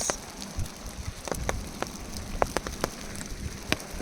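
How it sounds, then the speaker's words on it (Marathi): Steady rain patters on a surface, with scattered sharper drops ticking irregularly over a soft continuous hiss. "पाऊस आला पाऊस आला आवाज करत करत"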